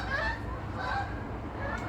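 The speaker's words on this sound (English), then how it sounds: "Oh, 2 geese." Geese honk in a television scene, a few close, nasal calls scattered over a busy background with voices underneath.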